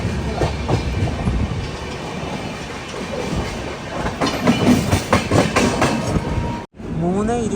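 Passenger train pulling slowly into Jabalpur Junction platform, wheels clacking and rumbling steadily near the listener, with a brief wheel squeal near the end; faint voices murmur beneath.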